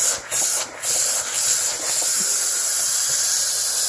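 An Instant Pot vents steam in a loud, close, continuous hiss that sputters in short breaks at first, then settles into a steady rush.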